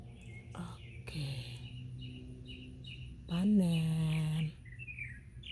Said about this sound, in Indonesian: Teman-teman kalau dengar bunyi burung, itulah burung-burung di halaman rumah ini banyak.